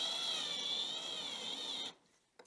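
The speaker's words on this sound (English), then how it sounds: "Set your drill bit to slow, and just go in slowly." A power drill with its bit set to slow bores steadily into an aluminum 2020 extrusion, giving a sustained, fairly loud whine for about two seconds that cuts off abruptly into near silence.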